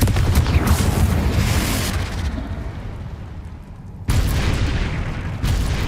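A Confringo spell blast in the video game Hogwarts Legacy: a loud, broadband explosive burst with a rumbling low end that fades into a quieter tail, then a second loud impact near the end, with no talking.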